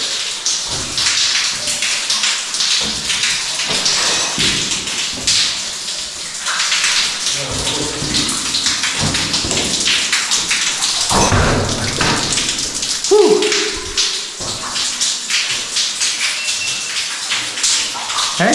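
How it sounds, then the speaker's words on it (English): A small waterfall inside a deep forest cave splashes and patters in a loud, close, continuous rush, with a few knocks and a brief voice heard over it. "Little waterfall that I'm down here."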